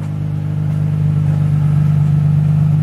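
Nissan Z sports car engine, recently repaired after hitting a wall, running loud and steady with a close, continuous low rumble and slight rises as it is revved, no voices.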